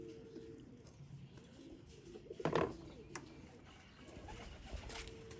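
Red-eyed breeder pigeons coo softly in a loft, low repeated throaty calls with a brief louder burst of wing or body movement partway through, over steady background noise.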